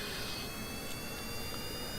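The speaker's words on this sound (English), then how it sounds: "There we go, jet engines back online." A steady jet engine roar from a craft in Kerbal Space Program, a broad continuous whoosh with a faint high whine running at even loudness throughout, no voices over it.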